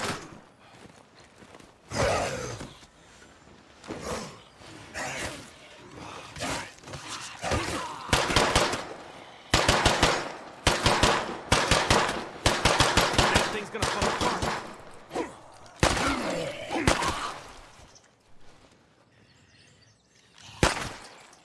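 Gunfire in the zombie game State of Decay 2: repeated bursts of rapid automatic shots and single cracks, loud and close, spread across the whole stretch with short gaps, a voice occasionally talking between them.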